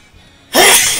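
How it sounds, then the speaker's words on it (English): A single loud, abrupt sneeze bursting out after near silence, close to the microphone, with no talking. "I'm gonna have to sneeze, my guys"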